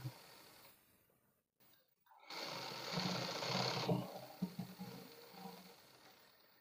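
A sewing machine stitches a pajama with a steady mechanical whir that runs for a couple of seconds after a quiet start, then gives way to softer, uneven handling noises.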